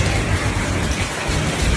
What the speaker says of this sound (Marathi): पाऊस खूप झालाय